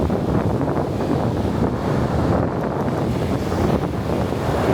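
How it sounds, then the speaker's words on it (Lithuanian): Strong wind on the Latvian seashore buffets the microphone in a continuous rumbling gust, with surf washing faintly beneath it and no voices. "Vėjas čiut gal mažesnis negu vakar."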